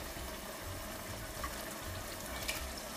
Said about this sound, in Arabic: باش نزيد شوية ماء سخون